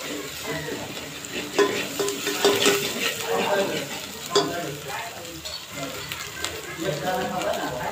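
Green chilies and coriander sauté in a hot pan for a green moong dish, with a dense close sizzle and intermittent stirring scrapes.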